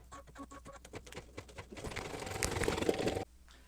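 An embroidery machine stitches with metallic silver thread, first with soft rhythmic ticking and then a denser, louder mechanical rattle that stops abruptly near the end, heard close and without talk.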